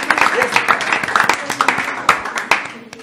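A small audience claps at the end of an evening performance, with loud, close, slightly irregular hand claps repeating steadily while voices mingle in the background.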